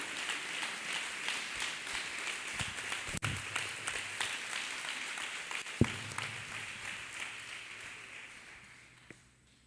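A church congregation clapping hands for Jesus during an alcohol-free testimony service, a steady wash of applause that gradually fades out toward the end, with a couple of sharp knocks along the way.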